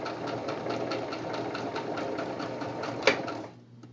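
Sewing machine stitching thin recycled fabric with no batting or backing, a steady rhythmic mechanical whirr close up, with a brief sharp click near the end before it winds down.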